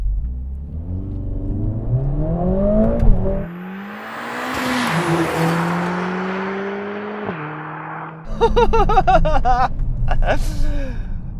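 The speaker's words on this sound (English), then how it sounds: "it definitely sounds better on the inside than the other two cars, so it's a clear win for the AMG" A Mercedes-AMG car engine revs up and climbs through gears while driving, heard from inside the cabin, dropping off briefly before surging back loud and raspy with sharp pops.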